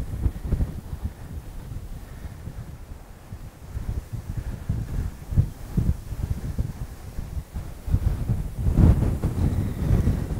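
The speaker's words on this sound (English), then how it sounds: "It is getting windy, which is the tricky part." Strong wind buffets the microphone on the Lanikai Pillbox hiking trail on Oahu, Hawaii, a continuous low roar with heavier gusts surging throughout, loudest near the end, with no talking.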